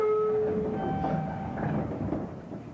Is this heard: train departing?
yes